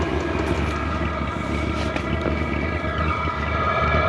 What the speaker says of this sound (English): This is our second time using the diesel heater this winter.